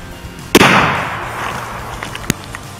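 A rifle shot fired into ballistics gel at a range cracks sharply once, followed by a decaying echo across open ground and a fainter second pop about two seconds later.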